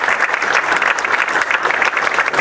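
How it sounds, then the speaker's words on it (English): An audience at a diplomacy lecture gives a senior Foreign Service officer a big round of applause, dense sustained clapping from a sizeable crowd, close and loud with no speech over it. "let's give him a big round of applause"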